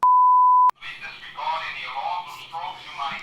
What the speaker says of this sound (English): We're having a fire alarm right now.